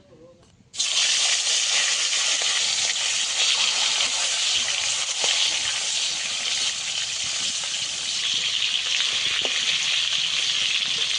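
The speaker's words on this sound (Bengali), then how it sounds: "ভালোভাবে গরম হয়ে গেছে, মাছ দিয়ে দেবো।" Fish dropped into hot oil in a wok sets off a sudden loud hiss after a quiet moment, then a sustained, even sizzle with occasional faint pops carries on to the end.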